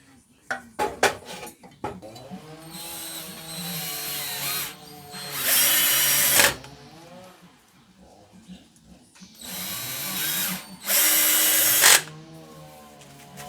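A power drill fastens a leg onto a table during simple construction, with two sustained, loud whirring bursts separated by pauses. Clanks and knocks of handling the parts come before and between them, and no one speaks.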